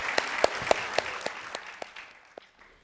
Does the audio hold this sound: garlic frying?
no